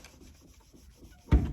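Old marker writing is rubbed off a classroom board in a few soft, quiet scrubbing strokes, ending in one louder, brief rub.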